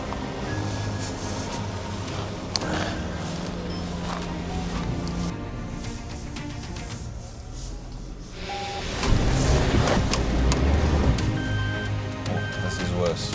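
A Suzuki Jimny pushes through deep Kliprivier mud in second gear, its engine droning steadily before a louder surge of revving and sloshing churn partway through, with muffled voices in the cabin.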